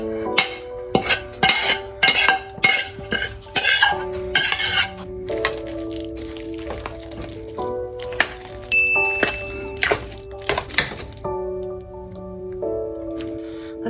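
Sautéed cabbage is folded into mashed potatoes for vegan colcannon: repeated clinks of a utensil on a pot and soft, squishy stirring in irregular bursts over sustained tones in the background.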